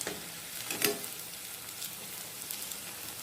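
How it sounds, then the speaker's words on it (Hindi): Potato and semolina fingers fry in hot oil, a steady soft sizzle with small crackles throughout and a brief louder pop near the start. "इस तरह से इसे घुमाते हुए हमें फ्राई करना है ताकि ये अच्छे से चारों तरफ से गोल्डन ब्राउन हो जाए।"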